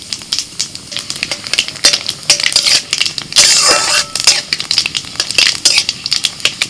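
Whole spices (bay leaf, two dried red chillies, cumin and nigella seeds) crackling and popping in hot oil, loud, busy, irregular spitting bursts with a brief harsher surge midway.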